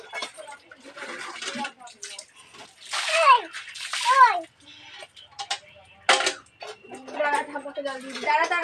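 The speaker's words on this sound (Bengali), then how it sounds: "জল দিয়ে তোকে স্নান করাবো।" Water is poured over a child during a bath, with splashes and trickles coming in short bursts between the voices of an adult and a child nearby.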